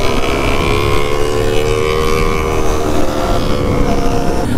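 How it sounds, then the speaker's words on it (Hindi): A loud Kawasaki Ninja sport motorcycle, a ZX-10R, roars nearby in a sustained, droning engine note with rising harmonics, heavy and continuous with no speech over it. "और भाई इन लोगों की बाइक जो है ना बहुत लाउड हो रखी है"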